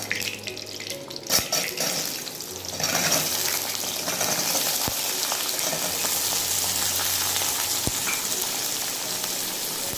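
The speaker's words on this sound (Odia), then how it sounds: "ଏବେ ଆମେ କଖାରୁକୁ ଭାଜିବା" Pumpkin sizzles in a hot pan for an Odia-style curry. A soft hiss starts, then jumps to a loud, steady frying crackle partway through, with a few sharp taps from a utensil.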